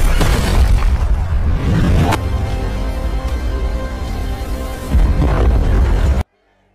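Explosions in the film Black Adam: a loud booming blast opens, a sharp second burst follows with a long rumbling roar, then another heavy boom before the sound cuts off abruptly.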